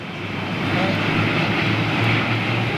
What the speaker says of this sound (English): I can hear an engine start-up.